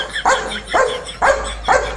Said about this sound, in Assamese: এই দুটা কুকুৰ আহি গ'ল এতিয়া ভকিবা নাজানো